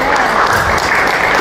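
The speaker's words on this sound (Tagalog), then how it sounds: "Alam niyo ba kung bakit kayo pumapalakpak?" A church congregation claps together in a short, loud, dense burst of applause, steady from start to finish.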